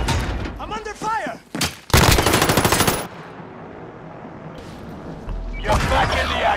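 Rapid automatic gunfire bursts in the video game Warzone, loud and close, with a sharp volley near the middle and further shots later, mixed with game voice lines and talk.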